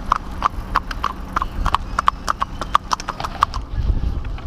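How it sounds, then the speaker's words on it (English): Hooves of horses led on a walk over sand, a steady series of crisp, evenly spaced clip-clops close by, with a low background rumble underneath. "There's the man taking his horses for a walk"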